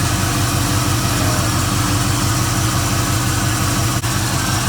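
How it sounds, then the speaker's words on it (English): A Chevrolet Monte Carlo SS V8 with a newly swapped Holley Street Warrior carburetor runs at a rough, high choke fast idle, a loud, close, steady throbbing rumble with an uneven pulse. "So that choke fast idle is really bad."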